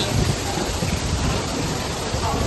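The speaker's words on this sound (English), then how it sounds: "It's all raining." Steady, dense rain pours continuously in Kerala, a loud even hiss filling the whole stretch with no break.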